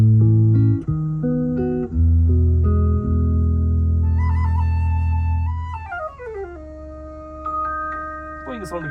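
A car audio test tone sounds from the left channel of a two-way active setup in a Toyota Crysta, with a steady series of stepped synthetic tones and deep bass from the subwoofer, followed by higher sweeping tones, loud and without talk.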